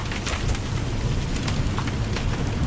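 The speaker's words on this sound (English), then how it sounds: "Big raindrops." Big raindrops pour down in a thunderstorm aboard an anchored sailboat, a loud, dense, steady hiss with scattered heavier splats close by.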